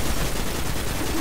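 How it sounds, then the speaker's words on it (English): A rocket launcher firing in the video game Destiny, a dense, roaring blast of broadband noise that fills the whole brief moment at high level with no letup. "Pull out your rocket launcher, aim it at his face hole, and shoot it"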